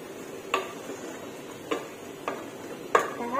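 A spoon stirs a simmering pot of chicken offal curry with leafy greens, giving four faint, spaced clinks and scrapes against the pot over a quiet bubbling background.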